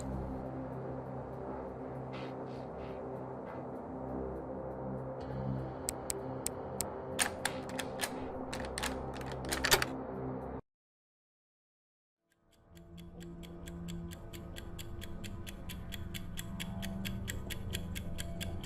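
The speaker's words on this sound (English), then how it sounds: "Do you hear that ticking sound?" A puzzle box gives off a steady, fast mechanical ticking at close range. It is briefly broken by a short silent gap, then resumes at a quick even rhythm.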